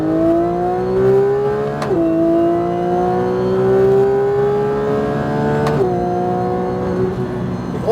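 Porsche GT3 RS on the Issoire circuit pulls hard through the gears from inside the car, a loud rising engine whine climbing steadily with two quick shift drops, no talk over it.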